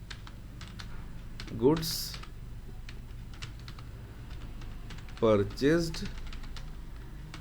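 Quick keystrokes on a computer keyboard enter a journal entry in Tally Prime, a rapid clicking patter near the mic that runs throughout while someone speaks briefly twice.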